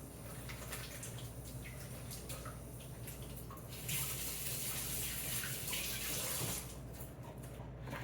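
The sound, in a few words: wetting hands with running water while baking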